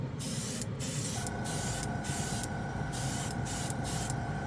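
Jumpwind metal paint is sprayed onto a model kit in several short bursts, each a close, crisp hiss broken by brief pauses, with a faint steady tone in the background.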